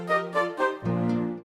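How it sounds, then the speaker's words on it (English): A violin plays a brief melody from The Sound of Music: three short bowed notes followed by a longer held tone, heard alone and clearly. "It was the violin."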